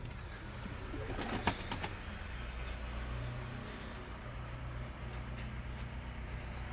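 Soft cooing of pigeons in a loft blends with faint wing flutters and scratching, under a low steady background hum in an enclosed space.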